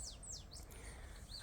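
Birds chirping in a tropical garden, a few thin high calls and sweeping tweets scattered over quiet outdoor background, faint and somewhat distant.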